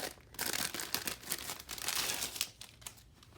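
Plastic packaging around a big stationery pencil case crinkles and tears as it is opened, a close, continuous rustle with a few sharper crunches.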